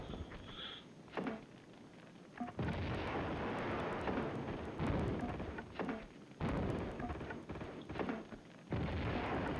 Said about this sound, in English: get your grenades out